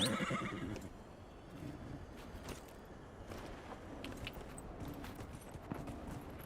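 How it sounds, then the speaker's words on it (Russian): A horse in the video game Dragon Age Inquisition neighs faintly with soft hoof clops, low in level over a steady background wash. "В общем, есть конь."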